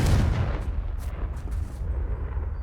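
A loud Confringo blasting-spell explosion in the Hogwarts Legacy video game, a heavy booming burst with rumbling low end that decays over a couple of seconds, with no voices.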